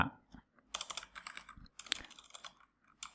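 Typing on a computer keyboard while designing a form in Visual Studio: bursts of close, quick clicking keystrokes with short pauses, fairly soft and with no talk.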